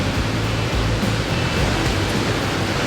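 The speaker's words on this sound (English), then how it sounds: "We're right down here on the river." A river in the Canadian Rockies rushes steadily, a dense, unbroken broadband wash of flowing water held at close range with no pauses or voices over it.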